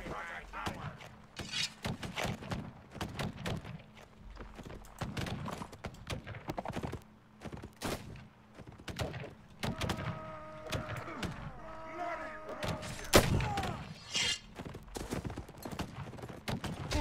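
Horse hooves clip-clop steadily through a cluttered battle in the game Caribbean!, mixed with scattered gunfire, a short whinny and other clatter, while a voice talks over it.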